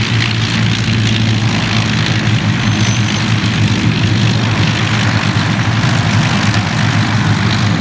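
Bristol Blenheim Mk. I(f) at the East Kirkby air show, its piston engines and propellers holding a loud, steady drone close by for the whole stretch, with no talking.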